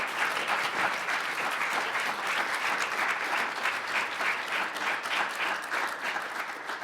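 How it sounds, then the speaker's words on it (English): Audience applause for a panel of speakers at a student event, sustained and even clapping from a sizeable crowd, moderately loud and unbroken for several seconds with no talking. "can you give these panelists a round of applause for tonight?"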